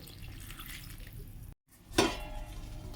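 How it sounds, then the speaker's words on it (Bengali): Water poured into a simmering potato curry to make a thin gravy: a short splash and trickle after a brief gap, louder than the faint kitchen background around it. "দিয়ে দেবো জল, এটা ঝোল হবে।"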